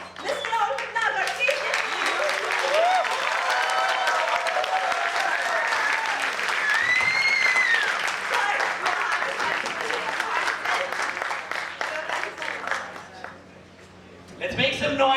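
An audience at a large motivational speaking event in Udaipur claps loudly and continuously for a speaker, a dense sustained wave of applause with some cheering and whistles that dips briefly near the end.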